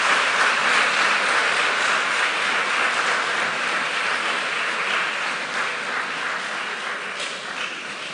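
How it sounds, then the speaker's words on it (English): Students and audience at a school quiz quarter-final applaud together, a dense steady wash of clapping that fills the whole stretch and fades slightly toward the end. "Please give yourselves a thunderous round of applause."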